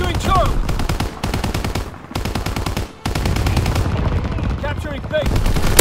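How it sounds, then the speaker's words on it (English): An anti-aircraft battery fires a salvo in Call of Duty: WWII, loud rapid bursts of gunfire repeating in long volleys with brief gaps, mixed with other game sounds. "Anti-aircraft salvo commenced. Clearing the skies."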